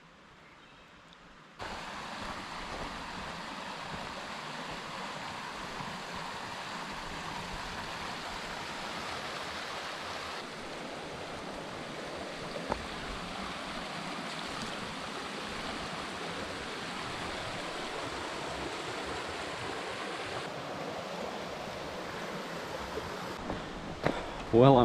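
A creek flows along a trail at New River State Park in Virginia, a steady broadband rush of water heard close and continuous for the whole stretch, with no voices.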